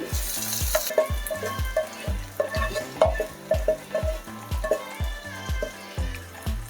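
Meat for Bangladeshi kala bhuna cooks on a stove, with a steady sizzle under rapid, rhythmic stirring knocks and scrapes that repeat evenly and loudly.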